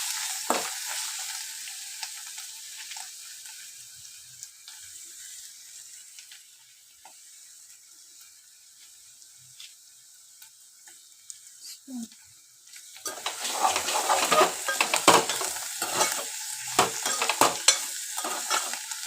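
Ponnaganti greens frying in a pan with salt and dried red chillies, a steady soft sizzle and scraping stir that grows louder and busier in the second half, with no talk.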